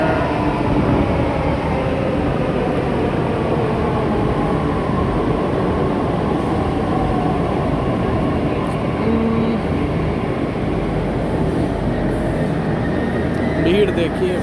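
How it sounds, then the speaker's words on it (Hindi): Delhi Metro train arriving at a crowded station near Botanical Garden, a steady loud rumble and rolling hum throughout with crowd noise and voices mixed in. "मेट्रो आ गई है।"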